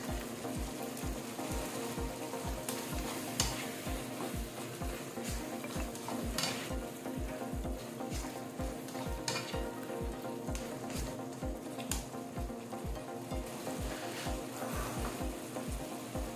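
Sardines and bottle gourd are stirred in a frying pan, a steady sizzle broken by repeated scraping strokes of a utensil at a fairly even pace, close and without speech.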